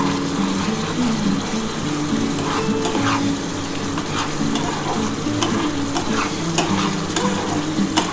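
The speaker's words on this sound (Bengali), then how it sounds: "এটা একটুখানি ভালোভাবে কষিয়ে নিয়ে সামান্য অল্প একটু জল দেবো।" Spiced masala for a restaurant-style pomfret curry is stirred and sautéed in a pan, giving a continuous loud sizzle with scattered scraping clicks from the spoon.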